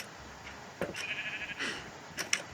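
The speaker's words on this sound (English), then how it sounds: "brought the sheep up the stairs, and finally brought them inside my house" Sheep bleating in a Minecraft hardcore game, several short nasal bleats at moderate level, one longer drawn-out call near the middle and a couple of brief ones toward the end, with no talking.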